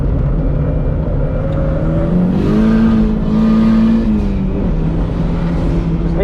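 A Honda CRX race car on a track runs loud and close with a sustained engine drone that rises in pitch midway, as if its tires are spinning.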